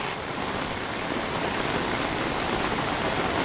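Heavy monsoon downpour in Anand, Gujarat, a dense, steady roar of rain hitting surfaces, loud and unbroken with no voices.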